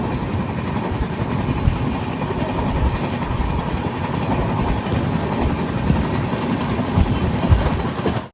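A passenger train rolls steadily along the line toward Karwar, its dense rumble and faint clickety-clack heard continuously from on board, loud and unbroken.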